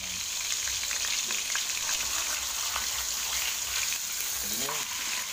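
Tuna steak frying in a pan, a steady loud sizzle and crackle of hot oil that fills the whole stretch, close by, with faint stirring or scraping noises.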